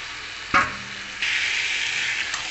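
Chicken pieces fry in hot oil with turmeric, salt and spices, a sharp clack of a utensil followed by a steady, bright sizzle that rises and holds close and loud.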